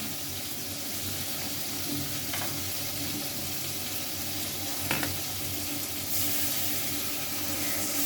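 Water poured onto ground spice paste frying in a pan, a soft steady sizzle with a gentle watery rush and a couple of brief clinks.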